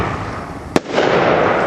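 A firework launches with a sharp, loud crack followed by a hissing, crackling wash of outdoor noise, close by and without voices.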